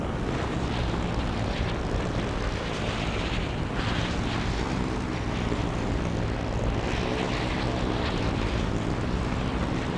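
Banshee aircraft in flight in the Halo Infinite video game, a steady, loud engine roar and whooshing rush that holds unbroken for the whole stretch with no voices.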